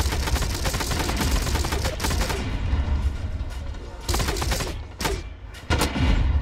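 Gunfire in the first-person shooter Blacklight Retribution during a Domination match: dense automatic bursts and rapid shots, with louder volleys returning in spurts toward the end, close and loud and free of talk.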